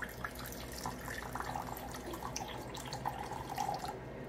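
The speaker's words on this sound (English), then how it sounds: "Next, I'm going to add my warm water." Warm water pours into a bowl for a keto yeasted egg-white butter bun batter, a continuous close splashing trickle that runs steadily for a few seconds, with no talk.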